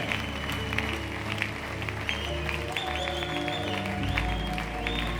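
Hands clap continuously across a church congregation during a prayer marathon, a thick, even crowd applause running under steady music.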